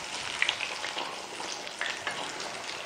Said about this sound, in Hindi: मीडियम फ्लेम पर आपने पकानी है, इतनी देर नहीं लगेगी फ्राई करने में